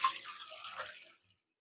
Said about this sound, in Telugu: సో ఈ కప్పుకి మన వాటర్ వచ్చేసి ఇదిగోండి ఒక కప్పు పోసాను